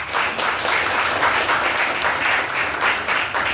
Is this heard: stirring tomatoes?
no